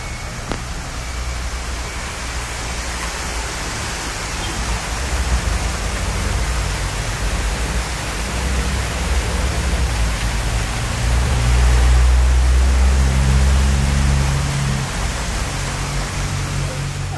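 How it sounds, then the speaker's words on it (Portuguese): A steady, broadband roar of a waterfall at Serra do Rio do Rastro, Brazil, close and loud, with a low rumble swelling briefly near the end. "Nós levamos vocês mais perto lá da cachoeira."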